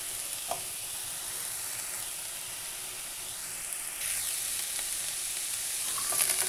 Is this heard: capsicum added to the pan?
yes